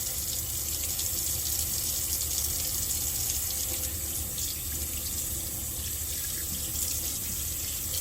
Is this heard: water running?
yes